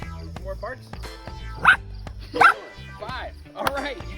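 A dog barks loud and close several times in a short burst, with uneven gaps between barks. The barking comes during a backyard cornhole game, and someone talks quietly underneath.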